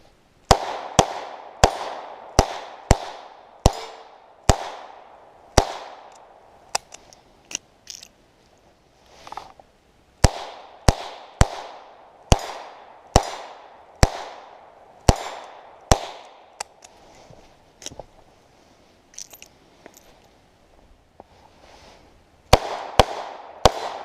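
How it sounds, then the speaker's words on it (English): Sharp gunshots ring out from a Ruger LCR .22 revolver fitted with Hogue Bantam grips, in loud, close reports fired in quick strings of several shots, with brief pauses and faint mechanical clicks between volleys. "You just saw me shoot my Ruger LCR with the Hogue Bantam grips installed"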